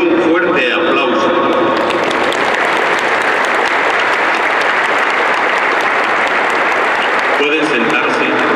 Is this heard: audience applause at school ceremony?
yes